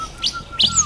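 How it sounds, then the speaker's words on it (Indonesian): Songbird in an aviary giving two short, bright chirps in quick succession, close and clear with no talking. "kita tunggu burung dengan nyanyian dari Iqbal"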